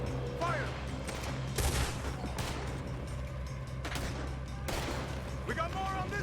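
Gunfire in the Red Dead Redemption 2 video game: bursts of rapid shots and scattered single cracks, fairly loud, over a low background rumble, with brief voices in between.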